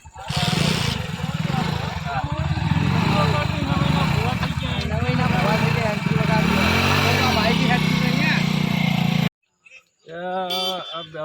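A motorcycle engine runs steadily on a road, a continuous close drone beneath loud conversation, then cuts off near the end as a voice carries on alone.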